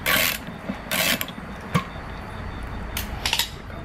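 A wrench works loose an exhaust bolt on a 2017 Kawasaki Ninja 650 fitted with a Delkevic exhaust. There are short bursts of ratcheting and rasping metal, a sharp clink, then more brief grinding turns, close by.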